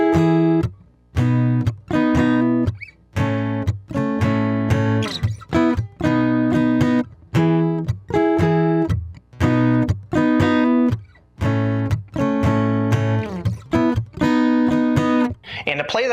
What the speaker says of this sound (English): we have a really cool cool guitar part that sounds like this